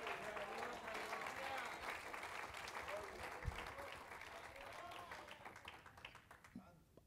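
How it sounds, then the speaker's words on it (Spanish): Church congregation applauding during a Spanish-language service, dense steady clapping across the room under a voice, fading toward the end. "Dele un aplauso."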